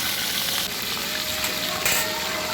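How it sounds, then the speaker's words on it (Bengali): Shol fish seasoned with turmeric and chili frying in hot oil in a wok, a steady loud sizzle that fills the moment with faint crackles on top and no talking. "যে এক এক করে মাছগুলো, শৈল মাছগুলো ভাজা হইতেছে।"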